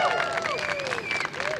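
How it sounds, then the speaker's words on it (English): A large crowd at the Australian Rover Challenge cheers and claps steadily and loudly for a competing team, with a voice talking over the noise. "There's a very big cheer from the crowd there"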